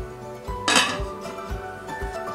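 A lid is set onto a slow cooker pot holding orange peels, sugar and water for homemade candied orange, giving one brief clattering clink over a soft, steady background.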